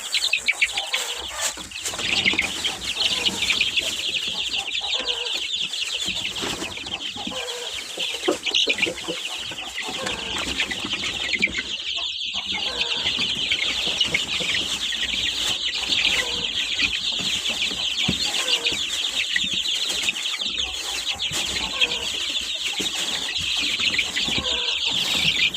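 Chicks and hens cluck and peep continuously while pecking at curd and semolina porridge, a dense, close chorus with occasional wing flaps and no talk.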